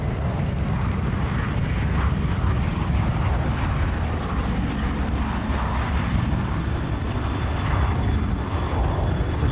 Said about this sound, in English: we've got a Virgin aircraft, a Velocity aircraft now departing,